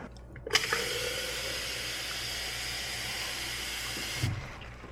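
Water mixed with grape juice is poured steadily for about four seconds, a close, continuous splashing hiss that starts abruptly and cuts off near the end, with no talking.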